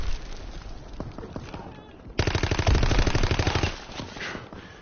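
Gunfire in the video game Call of Duty WW2, rapid automatic bursts rattling in quick succession, quieter at first then a louder sustained stretch of fire in the middle.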